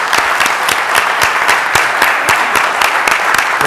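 A city council meeting audience applauds Vice Mayor Brown with brisk, close, fairly loud clapping, individual claps distinct within a steady rhythm.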